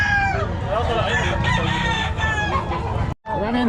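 Roosters crowing repeatedly at a busy poultry market in Bocaue, loud and close, with hens clucking and overlapping calls from several birds and a brief gap near the end.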